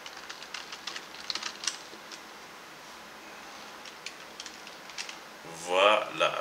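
Light keystrokes on a computer keyboard tap in scattered bursts while a message is typed, faint and close. Near the end a short, louder tonal sound cuts in.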